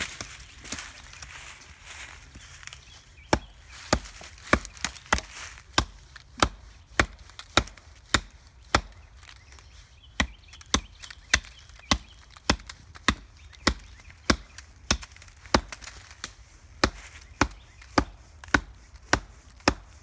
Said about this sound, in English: So maybe I'll try chopping right-handed now.